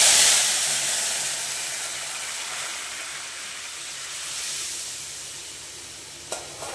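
Moong dal tipped into hot oil tempered with bay leaf for a Bengali dal with bottle gourd, giving a loud burst of sizzling and hiss that slowly settles into steady frying, with a faint clink near the end.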